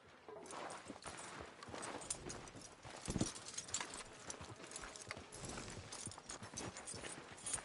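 Horse hooves clip-clop at a steady walking pace in Red Dead Redemption 2, with a few heavier thuds among the footfalls over quiet outdoor ambience.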